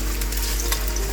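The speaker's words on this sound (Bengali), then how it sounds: "1/4 চা চামচের মতো আস্ত জিরা, 2টা দারচিনি, 1টা তেজপাতা। দিয়ে এটাকে একটু ভেজে নেব।" Cumin seeds, cinnamon sticks and a bay leaf fry in hot oil for duck bhuna, a dense, even sizzle filling the short moment up close, with faint crackles and no voices.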